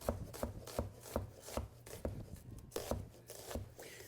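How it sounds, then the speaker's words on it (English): A knife slices through an onion on a cutting board in a steady series of crisp, close chops, roughly three per second, with no talking. "I'm going to peel the onion. And then I'm going to slice this."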